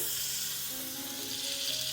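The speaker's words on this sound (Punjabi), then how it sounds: "ਇੱਕ ਤੜਕਾ ਪੈਨ ਵਿੱਚ ਪਾਵਾਂਗੇ ਥੋੜਾ ਜਿਹਾ ਮੱਖਣ" Butter sizzling in a tadka pan as tempering for Punjabi dal makhani, a steady bright hiss that stays close and constant throughout with no talking.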